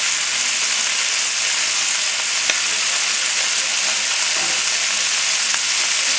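Whole garlic cloves fry in a pan for a seafood and chicken stew, making a loud, steady, close sizzle that runs unbroken throughout with no talking.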